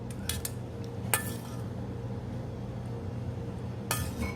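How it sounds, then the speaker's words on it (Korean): Sea squirt is added to a bowl with utensils, giving a few light clinks and taps of metal against the dish over a steady low background hum. "멍게 이렇게 넉넉히 넣습니다."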